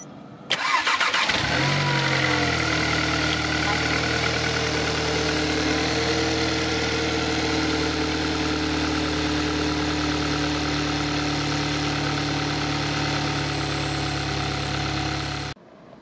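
A tuned Seat Leon 2.0 TFSI with 450 PS cranks and fires up with a sharp roar, then settles into a steady, loud, rumbling idle that holds unbroken for over ten seconds before cutting off.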